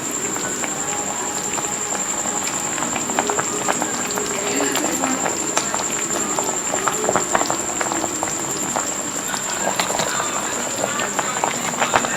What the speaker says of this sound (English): the dumpling is bubbling with the yam